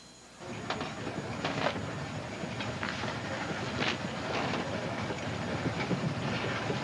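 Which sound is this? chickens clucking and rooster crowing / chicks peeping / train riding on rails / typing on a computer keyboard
train riding on rails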